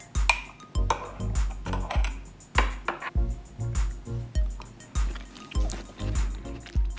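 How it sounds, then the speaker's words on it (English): A spoon stirring overnight oats with chia in a bowl, giving a run of close, moist clinks and scrapes against the dish in a steady rhythm, with no talking. "Give it a little mix here."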